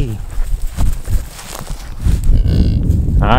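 A cow on a farm lets out a loud, close moo that swells over several seconds, with shuffling and hoof steps beneath it.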